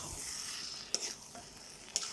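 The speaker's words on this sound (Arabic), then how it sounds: "اهو شوح معانا خالص الرز اهو" Rice with coriander and cumin is stirred in a pot for Egyptian mahshi stuffing, a soft continuous sizzle broken by two sharp scraping strokes about a second apart.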